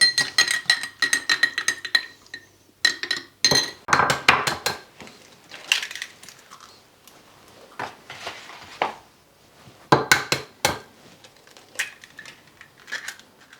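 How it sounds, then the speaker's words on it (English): Spoon clinks and scrapes against a bowl as a teaspoon of instant coffee is stirred into milk, a string of close, irregular metallic taps and swishes with brief pauses between bursts. "now we're going to add our 1 teaspoon of instant coffee to our milk and give it a good stir"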